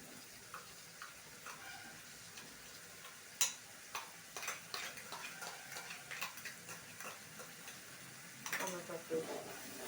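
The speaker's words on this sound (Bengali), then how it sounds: "টমেটোর পেস্ট দিয়ে আবারও নাড়াবো, বেশ ভালো করে কষাবো।" Tomato paste being stirred and fried in oil: a soft sizzle runs beneath repeated scraping and tapping from a spoon against the pan, the strokes coming in quick irregular clusters.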